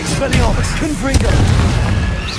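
A Confringo spell blast in the Hogwarts Legacy video game, heard as loud booming bursts with a sharp impact near the middle, mixed with game effects.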